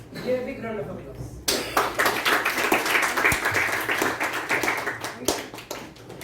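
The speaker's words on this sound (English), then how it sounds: "Give a big round of applause." Audience at a youth leadership Toastmasters event breaks into applause after a quiet opening, a sudden burst of many hands clapping that carries on steadily and fairly close, with a sharper clap near the end.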